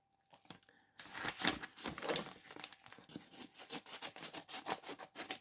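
Scissors cutting and tearing open parcel packaging during mail unboxing: a rapid run of crinkling snips and rips, close and fairly loud, starting after a second of near quiet and continuing steadily with no talk.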